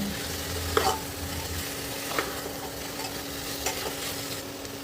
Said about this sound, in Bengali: রসুন ও কাঁচা লঙ্কা দিয়ে আর একটু নাড়াচাড়া করে মাটন দিয়ে দেব।